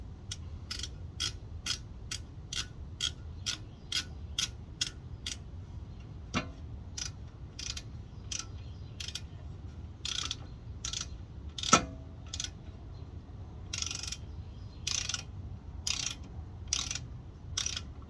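A hand ratchet on an extension clicks in steady rapid runs while tightening wheel bearing bolts on a Lexus SC430, with short pauses between bursts of close, crisp ticking and a couple of sharper knocks.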